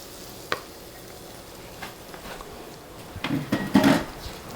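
Butter hits a hot pan for a healthy Thanksgiving dinner, giving a faint sizzle over quiet background, with a few knocks and clatters of cookware that grow louder and busier toward the end.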